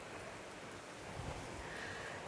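Rain falls in a steady, soft, even hiss that stays faint and unbroken throughout, with no voices.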